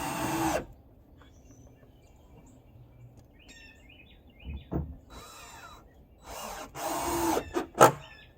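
A power drill drives screws into pressure-treated lumber deck boards in short bursts: one at the start, then several quick whirring runs near the end, with quiet outdoor pauses between and faint birds chirping.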